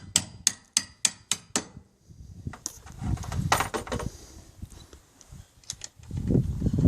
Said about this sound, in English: we're going to drive this 4-inch bolt up from the bottom